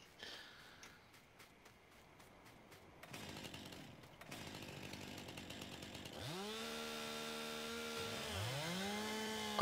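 A chainsaw in the video game Farming Simulator 19 buzzes faintly, then its engine revs up and holds a steady whine that climbs and falls in pitch as it cuts into a tree.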